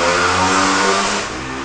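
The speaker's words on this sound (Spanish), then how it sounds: "Este sonido fuerte es una motocicleta ahora pasando frente a la vivienda, mucho ruido, a mucha velocidad." A loud motorcycle passes at high speed in front of a house at night, its engine roaring close by and then dropping away as it moves off.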